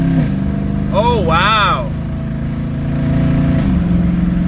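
A Toyota Tundra with a 4.6L engine and a muffler-delete exhaust pulls hard, a loud, steady drone from inside the cab with rising and falling pitch around a gear shift, while a voice briefly exclaims over it.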